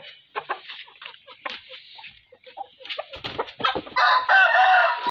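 A rooster in a farm coop being cleaned clucks in short bursts, then breaks into a loud, close crow near the end.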